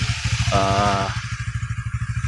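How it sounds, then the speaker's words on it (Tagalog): A Honda Winner X motorcycle engine idles close by in the early morning, a steady low pulsing thump with a brief rise in tone partway through before settling back to an even idle. "Yan yung motor natin,"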